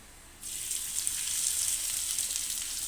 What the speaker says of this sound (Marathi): आपण याला जिरे आणि कांदा टाकून फोडणी करून घेऊया